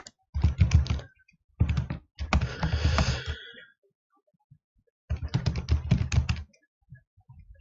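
Bursts of rapid typing on a computer keyboard, close and crisp, coming in three or four clusters of quick key clicks separated by short silences.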